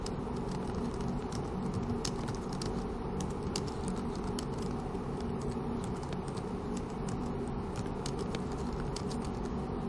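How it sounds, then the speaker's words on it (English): Rapid, continuous keystrokes patter on a computer keyboard up close, an even stream of light clicks with no pauses and no talking. "I'm going to open my word processor and just type a few things"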